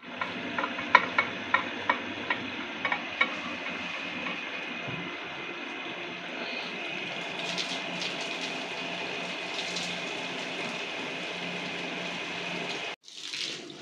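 A spoon stirs mutton nalli nihari in a pot, with a few light metallic clicks early on over a steady running-water hiss that continues to the end.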